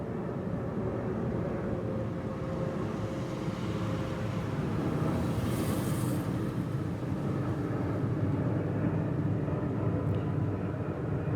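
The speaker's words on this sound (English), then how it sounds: "Sincere apologies for the noise of the planes." A continuous low rumble of a jet airliner passing overhead beneath a flight path, steady and broad, filling the whole stretch without any pauses.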